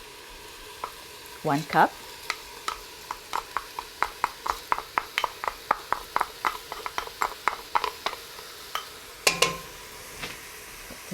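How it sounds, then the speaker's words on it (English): Rinsed red lentils sizzling in a pan with carrots and other vegetables, a spoon scraping and stirring in a steady run of sharp clicks and taps over a soft frying hiss, with a brief spoken remark. "I'm adding the red lentils, which I rinsed"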